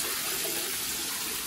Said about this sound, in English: Take it and pour it into the tank.